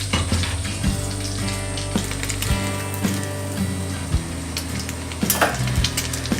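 Egg-soaked bread for a dessert sizzles and fries steadily in a pan, a close, continuous crackle broken by several soft knocks and scrapes of a utensil against the pan.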